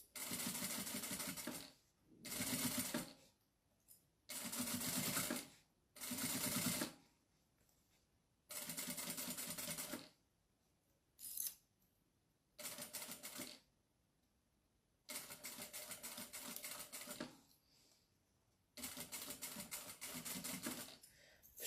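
A sewing machine stitches the seam of a handmade fabric bag in repeated loud bursts of a few seconds each, separated by short quiet pauses, with no talking.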